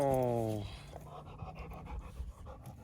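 A dog named Scout pants on a mountain camping hike, quick, soft breaths close by, after a brief tonal voice at the start.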